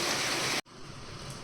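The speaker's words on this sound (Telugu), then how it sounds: "చాలా వర్షం పడుతుందండి మీకు సౌండ్ వినబడుతుంది అనుకుంటున్నాను" Steady hiss of heavy rain pours down outside, briefly cut off by a sudden gap, then continues slightly quieter.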